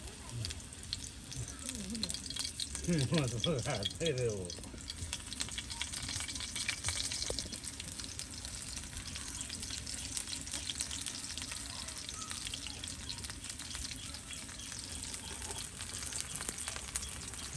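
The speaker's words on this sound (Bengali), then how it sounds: "এই যে এখন বড়ার দলা বানিয়ে কিন্তু দিয়ে দেওয়া হবে তেলে" Water hyacinth flower fritters are dropped into hot oil, and a soft, steady sizzle of frying follows. A brief burst of clatter and splashing comes near the start, then quiet bubbling continues at low level.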